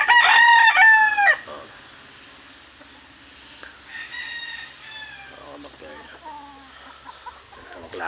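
Roosters crow in a backyard: one loud, close cock-a-doodle-doo opens, followed by fainter, more distant crowing and clucking from other birds.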